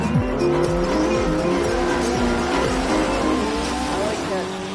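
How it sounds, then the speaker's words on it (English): Drag racing car engines roar and rev at a night race, with rising and falling pitch alongside tire squeal, loud and close, with crowd or announcer noise underneath. "I mainly like how the engines sound and how fast they go."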